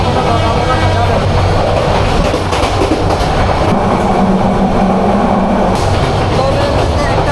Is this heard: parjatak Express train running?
yes